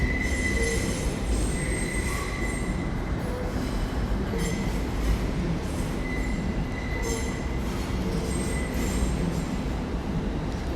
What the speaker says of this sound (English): we got another TfL rail service, looks to be going out